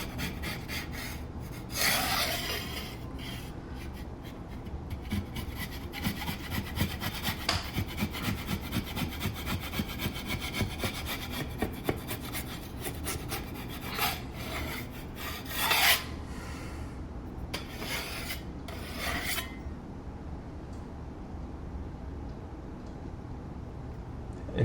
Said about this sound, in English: I like using my 4-inch trowel just because it's pretty sharp. It's a pretty universal tool. And it works great for getting old caulking off.